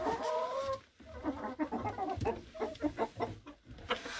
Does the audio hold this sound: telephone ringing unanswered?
no